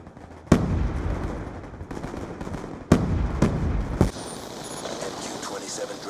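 A Dragonfire drone opens fire in Black Ops II, sharp loud blasts followed by rumbling bursts of gunfire, with voices talking over the action.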